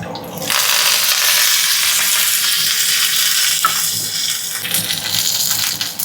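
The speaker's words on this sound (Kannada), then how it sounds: "ಎಣ್ಣೆ ಕಾದ್ಮೇಲೆ ಸಾಸಿವೆ ಹಾಕಿದ್ದೀನಿ. ಸ್ವಲ್ಪ 1-2 ಕಾಳು ಜೀರಿಗೆ ಹಾಕ್ತೀನಿ. ಮತ್ತು ಚಿಕ್ಕಿ ಉದ್ದಿನಬೇಳೆ, ಒಣಮೆಣಸಿನ್ಕಾಯಿ ಹಾಕಿ" Mustard seeds, cumin, urad dal and dried chillies sizzle in hot oil for an ashgourd peel chutney, a loud, steady hiss and crackle that starts abruptly and carries on, close by with a few small pops.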